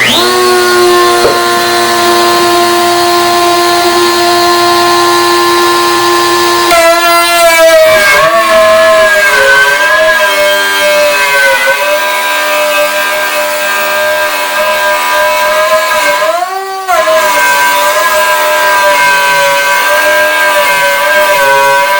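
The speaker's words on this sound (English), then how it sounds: "I get a handheld router underneath here, put the 3/4 inch bit here, and here we go." A handheld router fitted with a 3/4 inch bit cuts into a crosscut table saw sled, giving a loud, steady high-pitched whine with a shifting pitch where the bit bites into the wood.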